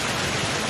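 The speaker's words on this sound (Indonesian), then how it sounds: "intensitas hujan sangat tinggi" Heavy rain pours steadily during flooding in Tukka, Tapanuli Tengah, a dense, continuous hiss of water with no break or other sound over it.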